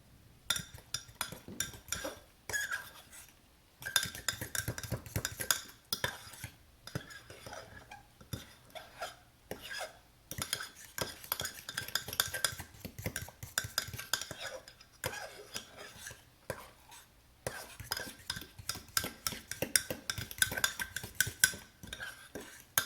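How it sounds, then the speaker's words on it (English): A utensil scrapes and clinks rhythmically against the inside of a mug while mixing egg into mug-cake batter, stirring steadily up close with brief pauses between bursts. "Now you're going to add in your egg and mix well again."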